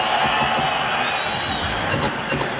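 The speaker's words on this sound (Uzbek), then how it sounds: "Suhrobga bir qarsaklar." A stadium crowd in Tashkent, Uzbekistan cheers and applauds for Suhrob, a loud sustained roar with scattered whoops and clapping throughout.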